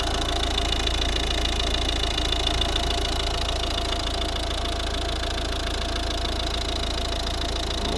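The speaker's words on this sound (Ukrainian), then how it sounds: "почалася робота двигуна." A steady, low 1.6 D2 diesel engine of a 2011 Volvo V50 idles evenly and continuously at close range, with a constant rumble and faint knocking and no voices.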